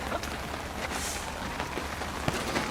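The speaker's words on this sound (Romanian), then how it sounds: "Plouă." Rain falls outdoors as a steady, hissing patter with occasional sharper drops against surfaces, constant and fairly close, with no clear talking over it.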